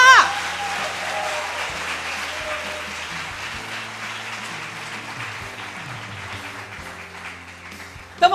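A church congregation applauds in praise, a broad sustained wash of clapping that fills the room, with a voice and music-like tones underneath, ending in a brief louder burst.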